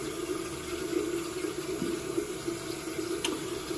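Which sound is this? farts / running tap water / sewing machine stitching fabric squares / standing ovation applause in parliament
running tap water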